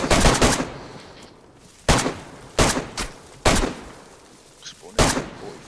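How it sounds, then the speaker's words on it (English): Gunfire in the PC game DayZ rings out as several loud, close bursts and single cracks spaced irregularly, with brief gaps of quieter background between them. "There's a guy behind, next to us. Getting shot next to us."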